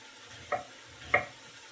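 Mushrooms and onions softening in melted butter in a pan, stirred twice with two short scraping swishes over a faint low sizzle, no talking.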